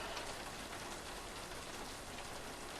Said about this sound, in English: Sorry, I didn't hear you in all this rain.